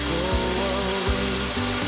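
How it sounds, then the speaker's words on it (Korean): A magnetic drill bores 12 mm anchor holes through steel plate on a building site, a loud steady grinding whine broken by two brief dips as the cutter bites, with no talking. "현장에서 사용할 철판을 마그넷 드릴을 사용해 12mm 외지 앙카가 들어갈 구멍을 타공해줍니다."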